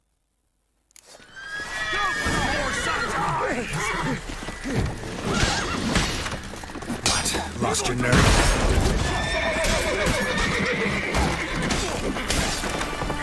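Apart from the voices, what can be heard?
horse neighing and hooves in the video game The Witcher 3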